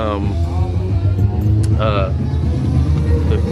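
Car engine at a car show with a rigged-up throttle, a steady deep rumble held up close under loud overlapping talk, without clear rev swells.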